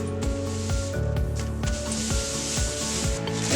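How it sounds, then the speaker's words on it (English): Paper towels rub across a preschool classroom table sprayed with soap and water, making rhythmic scuffing strokes with repeated squeaky drags, close and fairly loud, with no voices. "and then wipe the chair"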